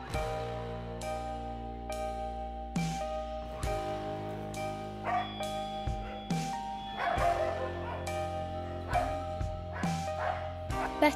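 Dogs at an animal shelter near Yangon, Myanmar, give repeated short barks and yips at roughly one-second intervals over a sustained tonal background.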